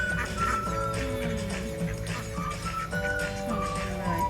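Several ducks quacking repeatedly, close by, with overlapping calls and a soft background murmur, at a camel farm in Cha-am, Phetchaburi, Thailand.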